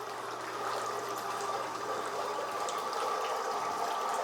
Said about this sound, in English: as you can hear, the pump is laboring a little bit